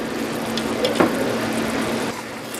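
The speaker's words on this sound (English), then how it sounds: "I'm going to add just a little bit of some cornstarch water" Cornstarch water poured into simmering orange chicken sauce, a steady close liquid pour and bubbling with a brief splash partway through.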